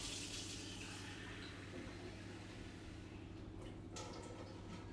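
A cup of water poured into a mixing bowl that already holds sugar and margarine or butter, a steady close splashing rush lasting several seconds without speech.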